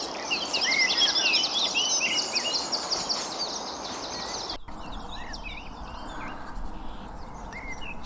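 A song thrush sings from nearby trees, its repeated bright phrases strongest and dense through the first half, then thinner and sparser with distant chirps over steady outdoor background noise.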